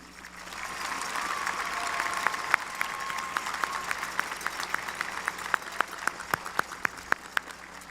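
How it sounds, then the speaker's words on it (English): Graduation guests at a high school commencement applaud in a steady broad wash of clapping that swells and holds, with a few louder individual claps standing out near the end and a faint tone lingering underneath. "Graduates and guests, please join me with a round of applause"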